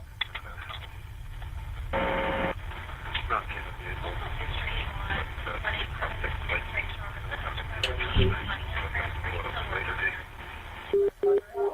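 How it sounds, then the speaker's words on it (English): A radio being tuned crackles with steady hiss and static, with muffled voice fragments and occasional beeps drifting through for several seconds. "Somebody tuning into the radio."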